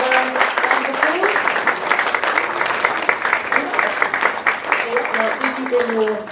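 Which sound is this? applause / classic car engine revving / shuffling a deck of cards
applause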